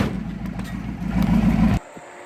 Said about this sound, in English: Sounds like we broke a fucking piston